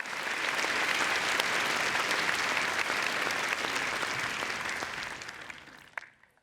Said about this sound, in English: Ladies and gentlemen, a round of applause, please, for all of our returning Hall of Famers.